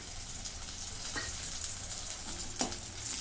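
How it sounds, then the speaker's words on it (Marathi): Onion with ginger-garlic paste sautés in a pan, a soft, even sizzle with a couple of brief stirring scrapes, fairly quiet and without speech. "कांदा चांगला मी भाजून घेते. जरा 1 मिनिट असं परतून घेते"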